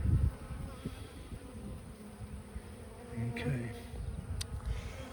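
Honey bees buzz softly at an open hive during a beekeeping inspection, a low, continuous hum with a few louder bees passing close, while a voice briefly speaks.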